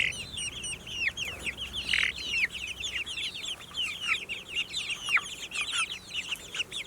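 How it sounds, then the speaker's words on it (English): Three-week-old chicks outdoors, near a cheap chicken tractor, make a steady stream of bright peeping chirps and soft clucks, many overlapping calls in quick irregular succession, close and moderately loud with no talking. "So these chicks are about 3 weeks old."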